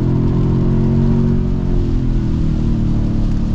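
A 2024 Toyota Sequoia TRD Pro is floored, its engine producing a loud, dense, sustained drone that holds steady and close throughout.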